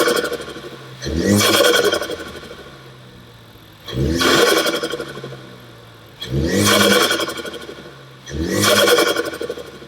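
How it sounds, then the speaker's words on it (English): A Ford Focus ST with a Mountune aftermarket intake revs four times in strong, evenly spaced bursts over a low idle, with a loud roaring intake sound on each blip. "This makes a lot of intake noise."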